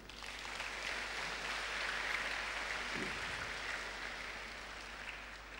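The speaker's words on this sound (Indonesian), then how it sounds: "Tepuk tangan." Sustained applause from a large audience at a school orientation week assembly, a dense, even wash of clapping that stays steady for several seconds, heard from a moderate distance without speech.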